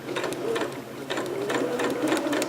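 Sewing machine running a long 5/8-inch ease stitch while sewing a Vogue 8280 pattern: steady, close mechanical whirring with quick rhythmic pulses of the needle, continuous throughout with no talking.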